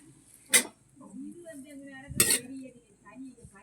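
Metal pots and cutlery clink as dishes are handled in a home kitchen, with two sharp, bright clatters a couple of seconds apart and quieter handling sounds and faint voices in between.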